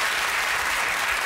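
Studio audience at a comedy panel show applauding, a loud dense even wash of clapping throughout.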